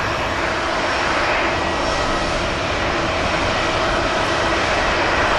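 EasyJet and Ryanair airliners taxiing at Manchester Airport produce a loud, continuous broadband jet engine roar that holds steady without a break, close and alone.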